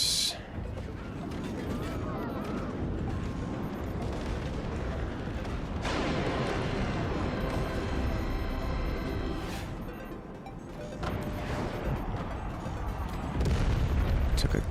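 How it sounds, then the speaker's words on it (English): Cannon rounds exploding in the strategy game Forts, heavy booming blasts and rumbling impacts that follow one another over a noisy battle backdrop, with someone speaking during the action. "Took a cannon round here, it feels like"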